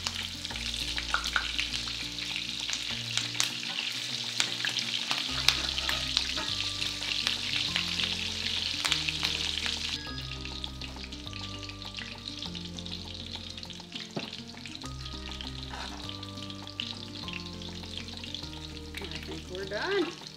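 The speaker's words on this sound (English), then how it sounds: "these are going to cook for 4 minutes on each side" Keto salmon cakes frying in oil in a pan, a loud, dense, continuous crackling sizzle heard up close, easing slightly partway through, with no talking.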